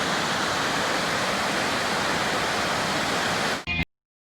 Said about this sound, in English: That's the river going back the way we came.